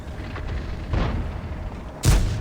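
Tank cannon fire in World of Tanks, with a Soviet T-54 engaging a heavily armored VK 45.02 B: a few heavy, booming shots, the last one close and loud, over a low rumbling engine drone.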